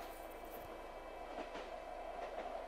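A train rolls along the rails in the video game My Child Lebensborn, a steady, quiet rumble of carriage noise with faint rhythmic clatter running throughout, no voices present.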